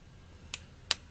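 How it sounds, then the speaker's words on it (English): Two separate sharp claps, a half-second apart, slow and fairly close in an otherwise quiet room. "Slow clap for myself."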